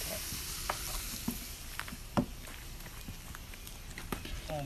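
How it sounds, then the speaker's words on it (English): Meat, sausage and andouille hit a jambalaya pot with a soft, steady sizzle, scattered by clinks and knocks of a utensil against the pot. "We're going to add the meat and the sausage and the andouille back in there."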